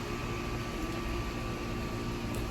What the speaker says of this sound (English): all of these ACs are going to turn on at the same time just because I'm over here talking